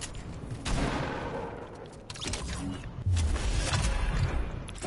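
Video game gunfire in a multiplayer shooter match, dense bursts of shots and booms rolling through nearly five seconds, loud and continuous with a heavier blast near the end.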